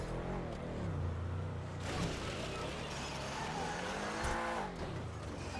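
In GTA V Online, a car engine revs hard and rises in pitch under acceleration, with tires squealing and skidding, loud and close, while faint game noise runs underneath.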